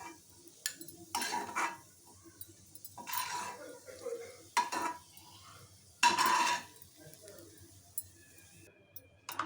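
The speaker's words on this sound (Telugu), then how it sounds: "అదే నెయ్యిలో మళ్ళీ సేమ్ వేయించేసుకున్నాం" Intermittent scraping and clinking of a spoon stirring in a pan, with soft frying underneath and quiet gaps between strokes.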